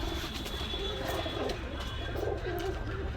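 Pigeons, including Pakistani high-flyer breeds, coo softly in the background over steady ambient noise at a pigeon sale in Khulna, with a few low murmuring calls.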